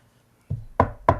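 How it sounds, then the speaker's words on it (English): Three sharp knocks on a door in quick succession, a close, hollow wooden sound effect heard alone against near silence. "There it is, the sound of my lover knocking."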